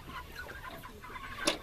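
Chickens clucking on a pasture farm, a soft continuous murmur of hens with one brief louder squawk near the end, moderately distant, no talking.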